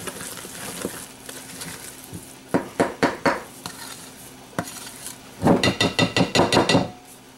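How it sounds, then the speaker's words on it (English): No-knead bread dough being stirred together in a bowl, heard as clusters of sharp knocking strokes in bursts, with a quick rhythmic flurry near the end, close and fairly loud, with no one talking. "Just stir it till it all comes together."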